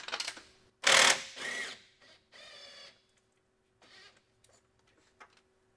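Tool loosening an intercooler pipe clamp on a Ford 6.0 diesel, a few short whirring and ratcheting bursts with pauses between them, close and fairly loud with no talk.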